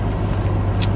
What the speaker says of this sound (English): Sorry if you can hear like the vents going